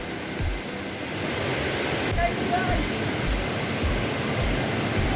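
Marottichal waterfall roars as a steady, loud broadband rush of falling water close by, filling the whole clip with no pause.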